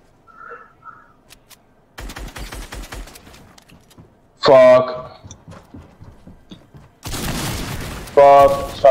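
Shotgun blasts in the Fortnite video game, a burst of rapid sharp reports and then heavy loud booms, mixed with excited voices talking over the action.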